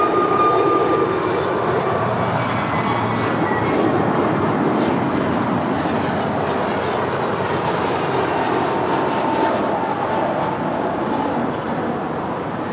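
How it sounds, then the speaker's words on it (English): An American Airlines Airbus A321neo departs LAX, a loud, steady jet roar that fills the whole stretch without easing, with no voices over it. "This is American Airlines 1880 departing to Puerto Vallarta. It's an Airbus A321neo."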